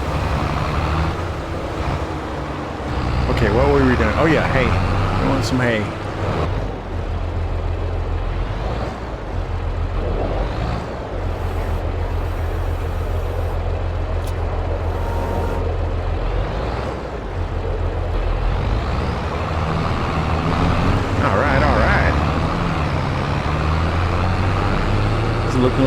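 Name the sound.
road traffic in Farming Simulator 22 video game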